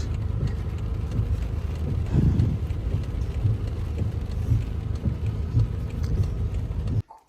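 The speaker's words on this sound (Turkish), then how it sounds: "Mübarek nasıl yağmur yağıyor." Heavy rain pours steadily, a dense continuous hiss with low rumble throughout, loud and close, cutting off abruptly at the very end.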